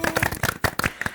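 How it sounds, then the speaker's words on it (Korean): A small audience claps briefly, with a thin patter of hands that stays fairly light and close. "박수가 좀 작은데요?"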